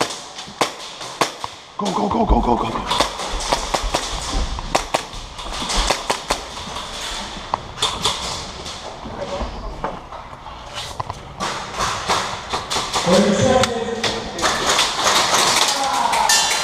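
Airsoft guns fire in sharp, rapid cracks and pops during an indoor Siege-style skirmish, with players shouting and footsteps shuffling between bursts of shots that run through most of the stretch.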